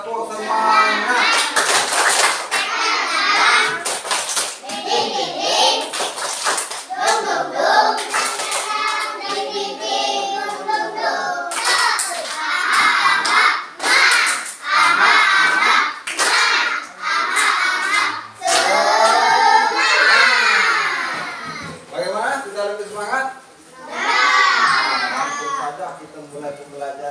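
Indonesian schoolchildren chant loudly together in a rhythmic clapping chant punctuated by sharp claps, a lively classroom group filling the space.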